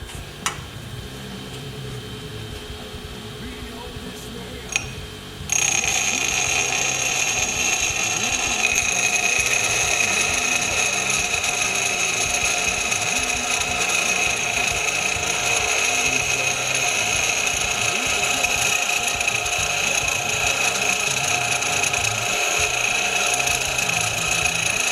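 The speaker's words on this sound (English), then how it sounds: "I'm using a bench grinder to get the flats on the steering shaft for the grater taken care of" A bench grinder grinds flats onto the ends of a steel steering shaft for a homemade grater, a steady loud whine with a harsh grinding hiss that kicks in after a few quiet seconds and runs on continuously, with no talking.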